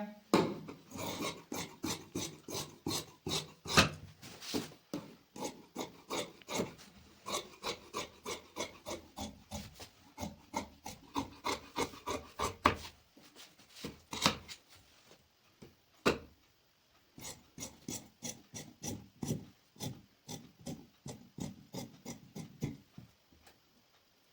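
Scissors cutting through velvet suit fabric, heard as a long series of rhythmic crunching snips, steady and close, with brief pauses between runs of cuts.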